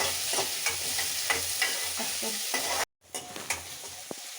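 Finely chopped onion fries in a pan with a close, steady sizzle and frequent stirring scrapes, broken by a brief moment of silence before the sizzling resumes.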